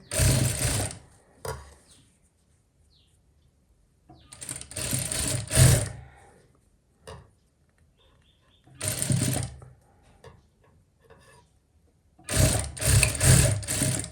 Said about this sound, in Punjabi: ਇੱਕ ਸਲਾਈ ਆਪਣੀ ਹੁਣ ਆ ਲੱਗ ਜਾਣੀ ਹੈ ਤੇ ਇੱਕ ਆਪਣੀ ਲੱਗੂ ਦੂਸਰੀ ਸਾਈਡ